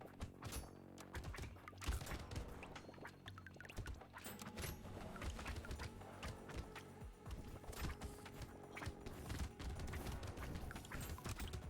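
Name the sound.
explosions in the video game Brotato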